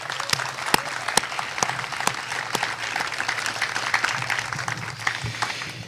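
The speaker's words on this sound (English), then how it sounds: "Please give them a round of applause." Audience applause at a military battalion farewell ceremony, a dense sustained wash of many hands clapping with a few sharper nearby claps standing out, steady throughout and without speech.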